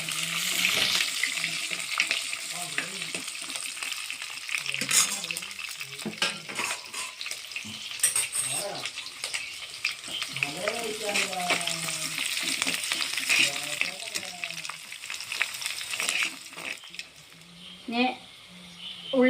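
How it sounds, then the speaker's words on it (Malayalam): Green chillies fry in hot oil in a pan for a home-style fish curry, making a continuous crackling sizzle with stirring scrapes throughout; a voice talks intermittently over the cooking. "ഇതിന് പച്ചമുളക് മൂത്ത് വന്നിട്ടുണ്ട്"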